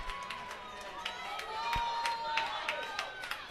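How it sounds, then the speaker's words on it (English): At a varsity football game against LaSalle College, the stadium crowd cheers and claps in scattered bursts, with sharp claps and a public-address tone over a steady murmur of voices. "Crowd getting into it a little bit here."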